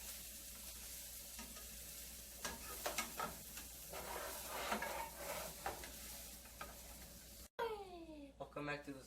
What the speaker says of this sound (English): make sure you grab the pan and just start doing this. Just mixing them all around